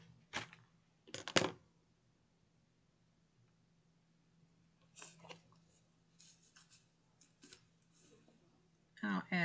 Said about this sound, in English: let's just cut off a little bit of twine